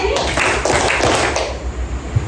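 A classroom of students performs the rhythmic clapping chant tepuk sore, a few loud, close claps in a quick pattern with voices chanting along, followed by a brief pause.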